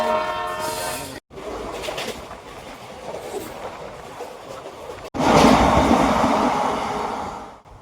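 A train at Anand Vihar railway station in Delhi, with a horn at the start, then a rumbling rolling drone and clatter that swells louder near the end.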